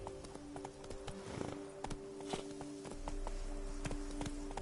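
Roach, the horse in The Witcher 3: Blood and Wine, running with a steady rhythmic clip-clop of hooves on hard ground, close and clear over a humming ambient game score.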